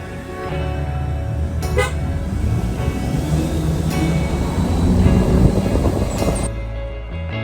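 Car horn honks on a narrow winding mountain road on Réunion where bends allow only one car at a time, a few short toots rising over steady engine and road rumble.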